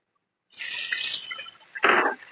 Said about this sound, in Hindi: इसके अंदर 2 घूंट पानी डाल देंगे ताकि हमारा प्याज ओवर कुक ना हो